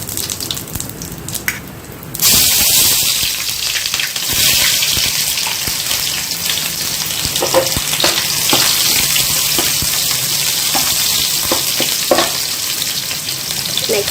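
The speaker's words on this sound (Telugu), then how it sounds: "సో తిరగమాత వేస్తున్నారండి. సో ఆనియన్స్ అవన్నీ స్టార్ట్ చేస్తున్నారు ఇప్పుడు." Tempering and onions hit hot oil in a pan for prawn curry, bursting into a loud, steady sizzle after a quieter start, with occasional stirring clatters; no one speaks.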